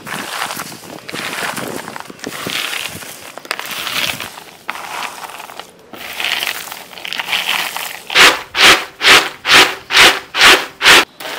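Roasted peanuts being rubbed to loosen their skins, giving a dry rustling, crunchy scraping that grows into a run of rhythmic, evenly spaced rubbing strokes near the end.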